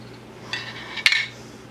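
A jar of salt pork, pressure canned at home in 2010, is opened: a soft metallic click and rattle, then a sharper brief pop and clatter of the lid coming free, close and alone.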